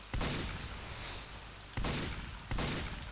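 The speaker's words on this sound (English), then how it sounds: "I keep shooting" Team Fortress 2 gunfire: three sharp, loud bursts of shots at uneven intervals, each cracking in hard and tailing off into a rattling decay, with no talk over them.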